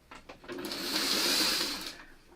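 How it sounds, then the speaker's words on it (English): A sewing machine stitches quilt star points together in one short, steady whirring run that rises quickly, holds for about a second and a half, then stops. "Then you start sewing the bigger points together."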